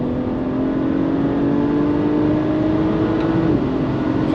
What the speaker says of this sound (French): voilà ce 6 cylindres qui est rageur comme BM sait les faire